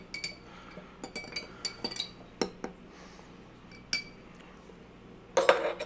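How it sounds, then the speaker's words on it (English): A spoon stirs an Old Fashioned cocktail with simple syrup in a glass, giving a run of light, irregular clinks against the glass, with a louder cluster of clinks at the end, close and alone. "Give it a good stir so that the simple syrup mixes evenly"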